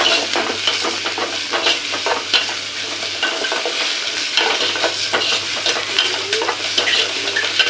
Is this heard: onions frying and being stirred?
yes